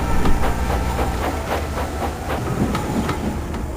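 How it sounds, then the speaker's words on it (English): A steam locomotive puffs away with a steady, rhythmic chuffing and hiss, evenly spaced exhaust beats over a continuous low rumble. "Once his passengers were on board, he puffed sadly away."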